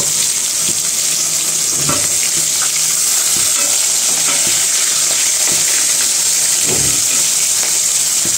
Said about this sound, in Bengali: আর আমার মাছ ভাজা মোটামুটি হয়ে গেছে, বেশি ভাজবো না, আমি হালকা করেই ভাজবো